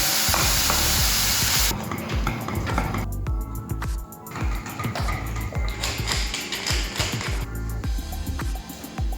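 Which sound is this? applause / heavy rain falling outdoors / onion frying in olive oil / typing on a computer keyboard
onion frying in olive oil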